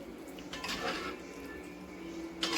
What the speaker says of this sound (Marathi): थोड्या वेळेला 5-10 मिनटं अशी हलवत राहायची